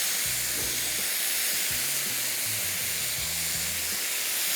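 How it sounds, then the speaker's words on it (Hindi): Minced meat fries in a pan over high heat, giving a steady loud sizzle and hiss from start to finish, with low clattering and scraping of a utensil beneath it. "कीमे को थोड़ा सा और फ्राई किया"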